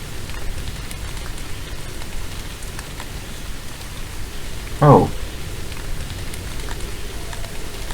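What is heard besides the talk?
rain in the video game The Moon Sliver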